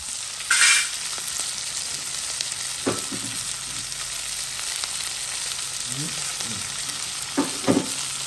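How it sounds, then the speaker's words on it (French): Onions frying in a cooking pot for a Réunion-style rougail, with a steady sizzle throughout and a few brief stirring scrapes and clinks, heard alone without speech. "en attendant que les oignons reviennent bien dans la marmite, ça fond"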